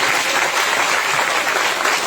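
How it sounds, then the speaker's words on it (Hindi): A congregation at a Christmas church gathering claps loudly and steadily throughout, a dense, continuous wash of applause with no pauses. "क्या एक बार जोरदार तालियों को बजा।"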